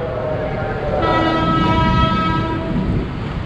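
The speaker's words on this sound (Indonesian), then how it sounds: "Itu ada kereta menuju Tanah Abang." A train bound for Tanah Abang rolls through the Cisauk railway crossing in Indonesia, a close steady rumble with a sustained horn-like tone sounding through the middle.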